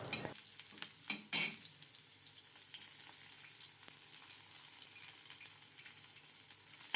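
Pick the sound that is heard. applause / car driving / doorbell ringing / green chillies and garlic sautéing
green chillies and garlic sautéing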